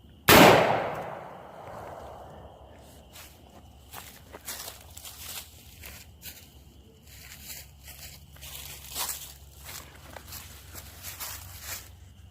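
A rifle fitted with a muzzle brake and a blast shield fires once, close and loud, into a toilet paper spool. The sharp crack decays over about a second, followed by quiet handling clatter.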